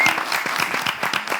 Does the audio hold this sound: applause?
yes